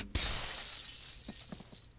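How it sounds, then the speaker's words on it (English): Glass shattering in a video game during an escape from a burning house: one sharp, bright crash followed by a hiss of scattering shards and a few small tinkling pieces. "I broke the glass."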